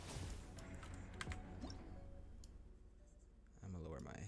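Keyboard and mouse clicks from a player in the Hollow Zero mode at its hardest difficulty, light and scattered over game sound and soft talk throughout.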